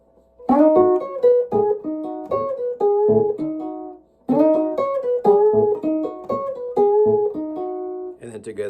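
Electric guitar in Chicago blues style, a repeated low A thumped under a short melodic figure, played twice with a brief gap, close and clear with no talking.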